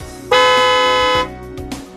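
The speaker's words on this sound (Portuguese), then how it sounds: "A buzina," The horn of a Uniport 2000 crop sprayer sounds one steady, loud blast of about a second, close by, over a low idling engine hum that continues afterward.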